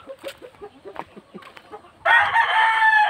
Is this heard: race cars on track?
no